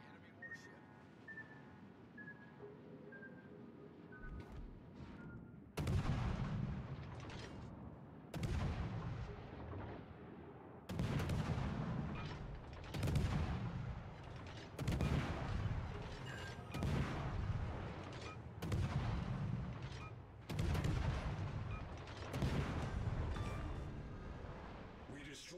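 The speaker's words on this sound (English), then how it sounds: "Concentrate fire on the enemy warship." Naval guns from World of Warships: Legends firing on an enemy warship: after a quieter start, a string of heavy booming salvos lands roughly every couple of seconds, loud and resonant, each with a rumbling tail.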